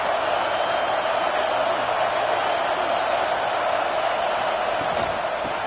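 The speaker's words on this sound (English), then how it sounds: "The Tide crowd rolling noise down on the Saban field on third down." Alabama home crowd at a college football stadium on third down, a steady, dense roar filling the whole stretch without letting up.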